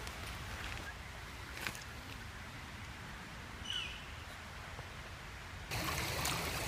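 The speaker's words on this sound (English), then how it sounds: "I'm here at a little creek, and got my camera set up in the water." A small creek flows steadily and softly nearby, a quiet continuous trickle with a brief rustle partway and a louder burst of water noise near the end.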